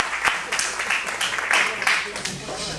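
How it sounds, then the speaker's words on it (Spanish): Audience applause at a fundraiser event for a short film, steady clapping from a seated crowd spread across the whole moment, with faint voices underneath. "Por favor, un gran aplauso."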